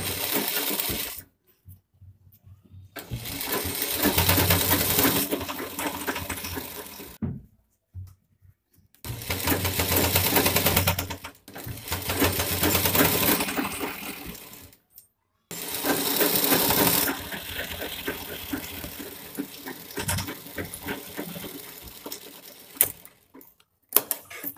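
Sewing machine stitching a fabric pencil pouch, running in several loud sustained bursts of rapid mechanical chatter separated by short silent pauses, with no talking over the stitching.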